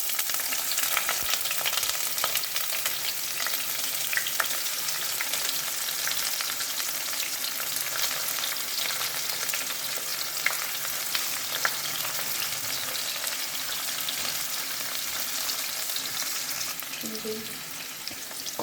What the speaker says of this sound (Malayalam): എണ്ണ ചൂടായിട്ടുണ്ട്. അപ്പോൾ നമുക്ക് പാവയ്ക്ക അതിലേക്ക് ഇട്ട് കൊടുക്കാം.